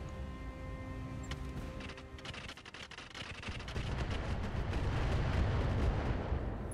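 Heavy weapons fire from mechs pounding a Gauss turret in the battle game RogueTech, a dense run of rapid booming shots and crackling impacts that swells louder toward the end, with no talk over it.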